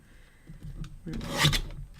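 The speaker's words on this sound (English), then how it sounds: "we're gonna need to, let's see, trim off the rounded edges because nobody likes rounded edges." A blade trims the rounded edges off a sheet of paper, giving a short, close rasping cut that swells in the second half and then stops.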